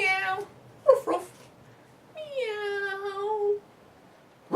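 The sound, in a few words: puppeteer's voice imitating a cat meowing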